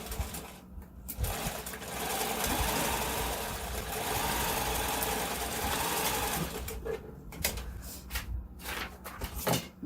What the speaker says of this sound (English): lift the presser foot, and sew the stitch also